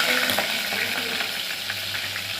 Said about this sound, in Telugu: ఆయిల్ వేడైందండి. ఇప్పుడు కచ్చపచ్చగా దంచుకున్న ఈ మిశ్రమాన్ని వేయాలి.